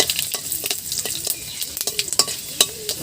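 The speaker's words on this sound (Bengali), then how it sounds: "কড়াইতে যে তেল রয়েছে এর মধ্যে দিয়ে দিচ্ছি 5 ফোড়ন," Panch phoron and dried red chillies hit hot oil in a wok, crackling and spitting in close, busy bursts over a steady sizzle.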